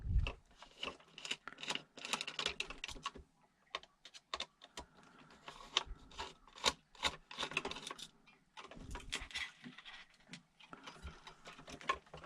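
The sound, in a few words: removing screws with a 1.5 mm hex driver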